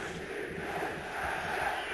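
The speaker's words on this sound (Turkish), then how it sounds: "Eski eski es tezahüratları Atatürk stadında" Football stadium crowd at Atatürk stadium chanting in unison during an Eskişehirspor match, a dense, distant roar of many voices heard on its own.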